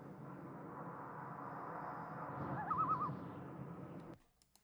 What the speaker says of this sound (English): you're gonna hear a bird call.